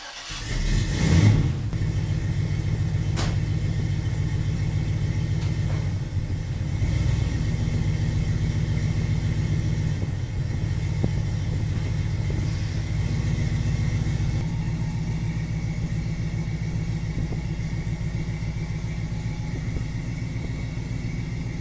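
A Chevy K10 truck engine starts with a brief burst, then idles steadily with a low, continuous rumble that stays loud and close throughout, with no talking.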